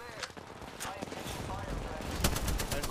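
Rapid bursts of automatic gunfire in the Apex Legends battle royale game crackle through a fight, with clustered shots near the end over a steady background of game noise and talk.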